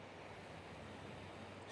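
Ocean surf at an oceanfront in San Diego, a faint, continuous wash of waves with some wind noise, steady and distant throughout, with no voices.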